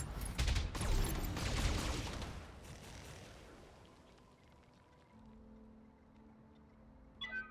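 Weapons fire and explosions from the Battletech video game as an enemy mech is destroyed: a dense, loud barrage of blasts at the start that fades into a lower rumble with a steady hum, then a brief sharp burst at the end.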